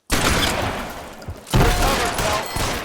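Shotgun blasts in the video game L.A. Noire: two loud, booming bursts of gunfire with dense crackling noise, the second starting sharply about halfway through and dominating the stretch.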